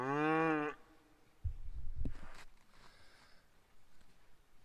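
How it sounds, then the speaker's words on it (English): A Highland cow gives one loud, close, drawn-out moo, followed by thuds, rustling and shuffling nearby in a mountain pasture. "So down with the Highland cows"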